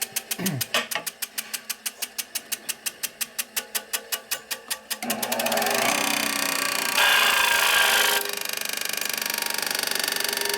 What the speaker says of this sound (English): it's going to grind on the inside a little bit